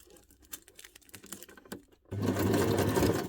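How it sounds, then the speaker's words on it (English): A sewing machine stitches scrap paper ruffles, starting with soft scattered taps and rustles, then breaking into a loud, steady run of rapid stitching close by. "I can just keep sewing without stopping with fabric, not with the paper ones."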